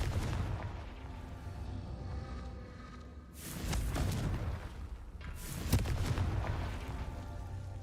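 Blasting spell explosions in Hogwarts Legacy, two deep booming blasts a couple of seconds apart, each rising out of a low rumbling background and trailing off, moderately loud.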